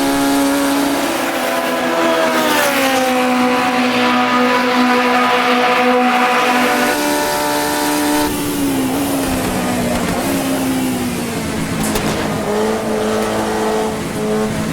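Formula Junior race car in the Automobilista 2 sim, its engine loud and close with rising and falling revs through gear changes, plus brief tire squeal near the end.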